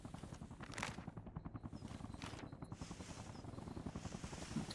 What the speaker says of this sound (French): J'entends effectivement. Transport hélicoptère allié.